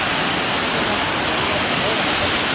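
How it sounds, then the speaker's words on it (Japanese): A steady, loud roar of Fukuroda Falls in Japan, a constant broadband rush of falling water without pauses. "それでは袋田の滝の全貌をご覧ください。"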